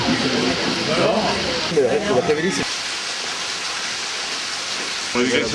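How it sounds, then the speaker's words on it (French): Rain pours steadily outdoors during a May 2011 adaptive watersports event, a dense continuous hiss throughout, with people talking over it in the first half and again briefly at the end. "C'est sous la pluie."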